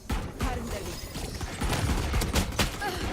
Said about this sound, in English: Wait, I'm getting shot from somewhere.